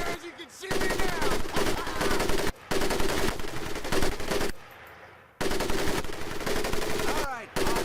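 An M1919A4 machine gun fires in long, rapid bursts in the Pacific war shooter Medal of Honor: Pacific Assault, loud and close, with short pauses between strings of shots.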